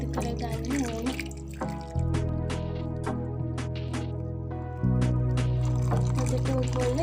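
Boiled hot water is poured into gelatin in a bowl while making caramel cream pudding, giving a steady close trickling and splashing stream whose tone shifts as the bowl fills, with a few drips through.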